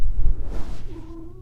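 A cat gives a short, rising meow up close after some low rumbling handling noise.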